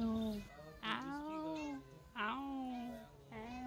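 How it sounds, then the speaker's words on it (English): A cat perched on a wall on a farm meows three times in a row, drawn-out and insistent, fairly close, with soft background noise between calls. "perched on a wall and meowing for attention"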